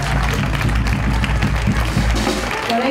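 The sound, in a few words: audience applause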